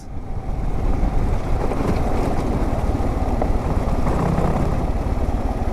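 KLR650 dual-sport motorcycle on a ride near Baker hot springs, Utah, with a continuous loud engine rumble and heavy wind roar at riding speed, steady from start to finish.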